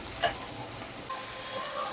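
Potatoes fry in oil in a kadai seasoned with asafoetida, dried red chilli and bay leaf, sending up a steady close sizzle with a brief spatter near the start and no talking.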